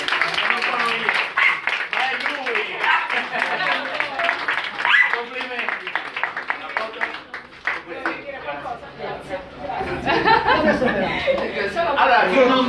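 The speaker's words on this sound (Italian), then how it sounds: "Un applauso a Mirko!" Audience applause at a photography contest award ceremony, sustained clapping mixed with chuckles and chatter from the crowd throughout, loud and close.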